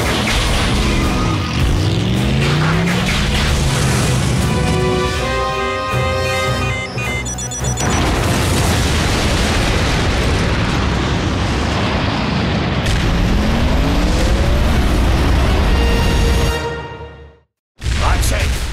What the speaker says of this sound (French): Explosion imminente!